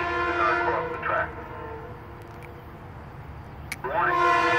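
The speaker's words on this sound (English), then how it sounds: "A train is approaching the crossing." A SEPTA regional train bound for Doylestown passes the Lower State Road railroad crossing. Its horn sounds loudly twice, over a continuous rumble, and an automated voice is heard as well.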